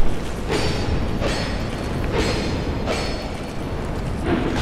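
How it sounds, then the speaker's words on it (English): Bombs explode in Dark Souls 2, with a series of booming bursts at roughly even intervals, each a sharp crack that rumbles over a dense, grinding background. "Bomb!"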